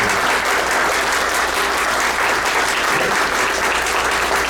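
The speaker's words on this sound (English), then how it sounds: "One more round of applause." An audience at a school board meeting gives another round of applause. Dense, loud clapping fills the whole stretch at a constant level with no pauses.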